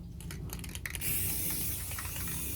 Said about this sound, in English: Spray with your water and vinegar mixture.